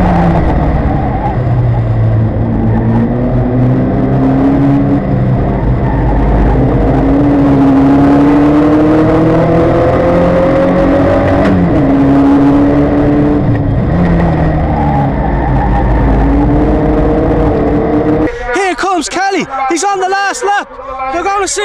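Formula Vee single-seater race cars scream around Mondello Park, engines revving up and down through gears in a loud continuous drone under excited race commentary, ending in a burst of cheering.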